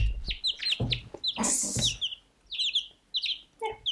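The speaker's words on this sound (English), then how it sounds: "Be my good little shoulder chicken." A pet hen perched on a person's shoulder gives a quick series of close, soft clucks and high chirps, with short pauses between the bursts and no talking.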